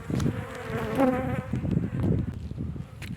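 Honeybees buzzing around an open beehive during a spring inspection check, a steady close swarm drone with individual bees zipping past, outdoors on a slightly windy day.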